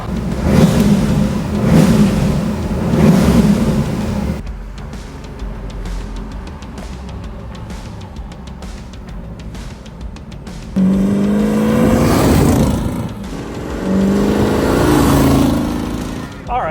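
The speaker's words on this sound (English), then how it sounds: "So here we are cruising along in our 1967 Chevrolet Camaro RS." A 1967 Chevrolet Camaro RS cruising on the road, its engine a steady low rumble throughout, getting louder with a rising rev near the end, with some wind and road noise mixed in.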